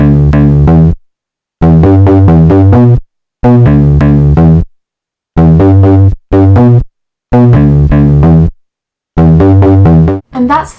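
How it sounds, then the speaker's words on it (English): Setting 3 bass synth on a Stylophone BeatBox plays loud, buzzy, sustained notes in short melodic phrases separated by brief silences, close and alone. "And that's the sound of the setting 3 bass synth."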